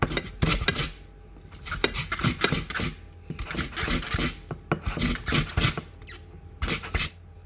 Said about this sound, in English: What I do, guys, is just scrape all the orange,